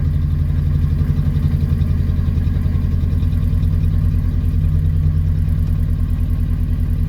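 A Honda Civic series 1 engine idles steadily with the choke partly on, a close, loud, even low-pitched putter with regular firing pulses running throughout and no voices.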